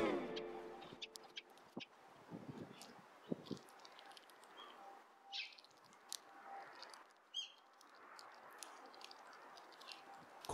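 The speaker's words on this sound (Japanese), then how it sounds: "くちばしでひまわりの種を割る音が聞こえています" Oriental greenfinch cracking sunflower seeds with its beak, faint scattered clicks and crunches, with occasional soft chirps in a quiet outdoor setting.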